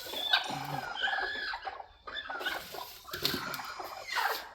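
Native country hens brooding on their eggs give soft, irregular clucks and low grumbling calls, fairly close and moderately quiet, in short bursts separated by brief pauses.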